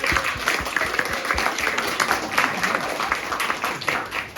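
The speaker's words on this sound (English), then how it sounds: "give Jenny a clap" An audience at the Tunbridge Wells Subbuteo Heritage Open Day claps for Jenny, a lively patter of many hands that stays fairly close and even throughout.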